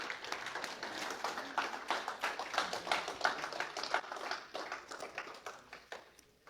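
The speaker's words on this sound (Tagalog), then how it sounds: "Palakpak natin si Jesus." Congregation at a church service applauding together, a steady patter of many hands clapping at moderate volume for several seconds, with no voices over it.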